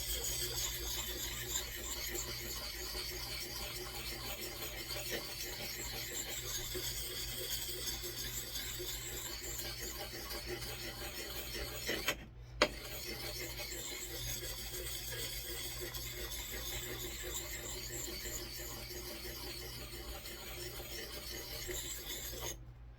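A Marbles camp axe having its micro bevel sharpened on a super fine abrasive, heard as steady, close rhythmic rasping strokes that continue throughout with one brief pause midway.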